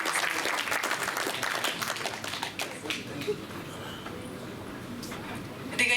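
An audience at a Kannada film event applauds the film's technicians, with a dense patter of many hands clapping that gradually thins out and then surges briefly again at the end.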